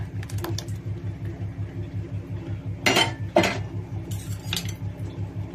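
Boiled milk with dissolved china grass being stirred in a pot, a steady rhythmic scraping with a few sharper metallic clinks of the spoon against the rim, close and alone.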